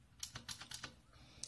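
Quiet, close-up clicks of keys pressed on a computer keyboard, about eight taps in an uneven quick sequence with a short pause before the last.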